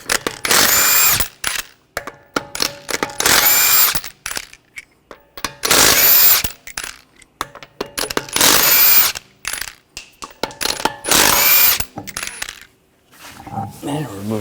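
Six loud bursts of a power impact tool spinning off the wheel lug nuts of a 2014-2020 Nissan Rogue, using a 21mm socket, each whirring rattle a second or so long with short quiet gaps between them.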